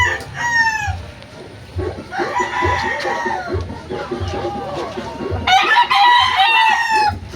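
Gamefowl roosters on a game farm crow in loud, drawn-out bursts near the start, middle and end, with clucking and scattered farm noise between, and a voice talking faintly underneath.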